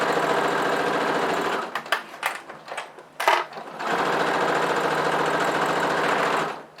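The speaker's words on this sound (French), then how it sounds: "Et c'est reparti pour la couture." A domestic sewing machine stitches fabric for a shoulder bag with a steady loud mechanical whir, pausing midway for a few short bursts and knocks before running continuously again; no talking.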